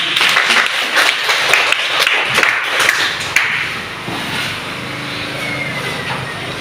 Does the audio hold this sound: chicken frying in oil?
no